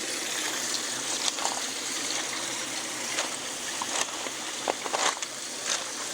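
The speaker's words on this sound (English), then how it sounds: "Okay, water is starting to come on this one." Water pours steadily into a swimming pool being converted into a koi pond, a continuous close splashing trickle with occasional louder drips and gushes, no voices.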